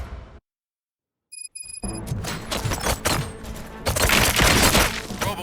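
Rapid gunfire in the RoboCop Rogue City video game erupts after a brief silence and a few electronic tones, becoming a dense, loud barrage of overlapping shots and impacts that builds toward the end.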